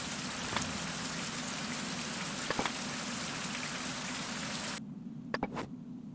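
Steady rain pours down in the game Survival: Fountain of Youth, a dense, even hiss with a few sharper drops, then cuts off abruptly near the end, leaving a quieter bed with a couple of faint clicks.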